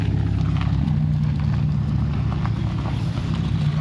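A Ferrari sports car engine at a touring rally event, a loud steady low rumbling drone with a slight uneven pulse, running continuously and close without talk.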